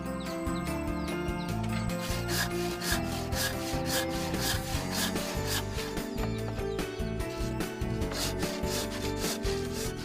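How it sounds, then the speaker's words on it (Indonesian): A hand saw cuts lengthwise through a wooden log to split it in two halves, in steady rhythmic back-and-forth rasping strokes, close and continuous. "batang kayu dibelah dengan gergaji menjadi 2 bagian"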